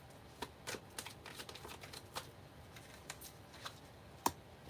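Tarot cards being shuffled and drawn in a reading, a string of soft riffling flicks and slides close by, quiet and alone with one sharper snap near the end.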